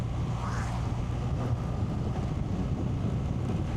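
Strong wind roars steadily across the microphone on an open road crossing Hungary, a loud, continuous low buffeting rush that holds without pause and carries no voices.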